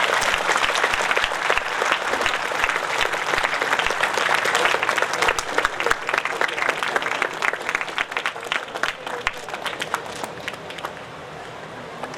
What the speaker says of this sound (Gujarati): આપણે સૌ જોરદાર તાળીઓથી વધાવી લઈશું.